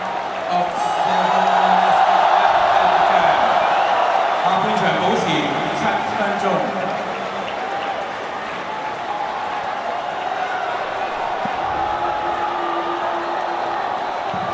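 A stadium crowd cheers for Cristiano Ronaldo at a Saudi Super Cup semifinal between Al Nassr and Al Ittihad, a broad, steady roar with applause and whoops under a commentator talking throughout.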